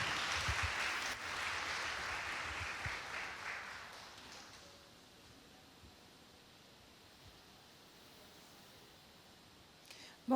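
An audience at a COP 30 event applauds to welcome a guest, a broad burst of clapping that fades after a few seconds into a quiet room.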